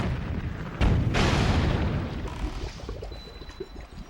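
A single heavy cannon boom from The Legend of Zelda: The Wind Waker lands just under a second in, loud and close, then trails off into a long rumbling decay with faint clicks and small noises.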